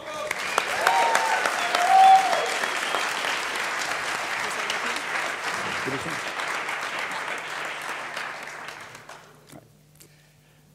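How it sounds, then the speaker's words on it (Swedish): Large prize-ceremony audience breaking into sustained, dense applause that stays loud for about eight seconds before thinning out, with a brief murmur near the start. "Stor applåd."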